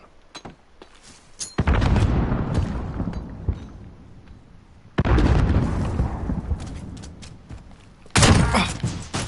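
Frag grenade explosions in the Modern Warfare video game: three heavy booms, each with a sharp onset and a long, rumbling decay, separated by short quiet gaps and some faint clicks.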